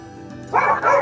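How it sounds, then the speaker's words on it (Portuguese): Dogs fighting somewhere nearby, with two loud bursts of barking and snarling yips over a low steady background hum. "Tem um cachorro brigando agora aí."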